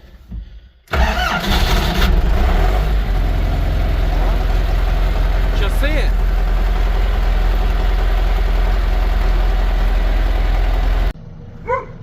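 A small tractor's diesel engine cranks, catches and settles into a steady, loud idle that rumbles on for several seconds before cutting off.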